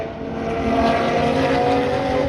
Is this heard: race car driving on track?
yes